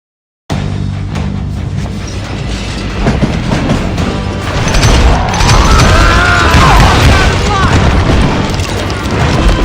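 A train rolls along rails in the Call of Juarez Gunslinger video game, a loud continuous rumbling clatter with booming impacts and a metallic screech rising midway, with a voice speaking over it.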